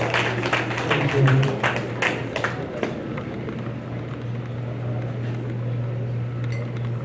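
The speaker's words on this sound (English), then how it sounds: "Give her a round of applause, please." A dinner audience at an alumni association fundraiser applauding, scattered claps for the first few seconds that thin out into room noise with a steady low hum.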